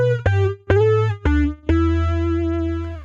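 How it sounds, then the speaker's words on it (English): Electric guitar notes pass through a Source Audio pitch-shift pedal blending in a sine-wave voice two octaves down. Four sustained notes play in sequence, each with a buzzy, distorted attack over a deep low tone, the last ringing longest. "we've got a sine wave that is actually set 2 octaves down"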